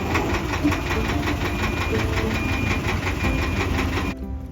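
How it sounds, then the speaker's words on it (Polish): A two-cylinder diesel engine of a 1965 Weimar T172 excavator runs at a steady idle with a regular knocking pulse, close and loud, cutting off abruptly near the end. "Silnik dwucylindrowy diesel, bardzo podobny do Dojca, ale to nie Dojc"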